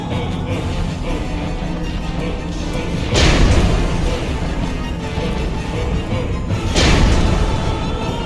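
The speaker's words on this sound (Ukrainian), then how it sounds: "От, Зараз ще одну гранату кидаємо." Grenade blasts strike a demon boss in Dark Souls Remastered, two heavy booming crashes about three and a half seconds apart over a steady rumbling game background, loud and close.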